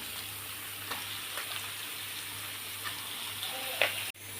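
Marinated chicken goes into a pan of sautéed onion and tomato, giving a continuous close sizzle with a few faint stirring ticks and a brief louder clatter near the end, no voices.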